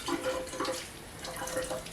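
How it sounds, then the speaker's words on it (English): Hot water is poured out of glass canning jars into a sink in a short splashing burst that gurgles and trickles, heard up close. "And then when I'm ready to fill them, I dump the hot water out."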